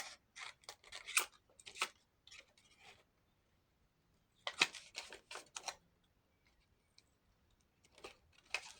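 Scissors cutting paper for a handmade hard cover journal, with quiet clusters of crisp snips, a pause, then more snipping.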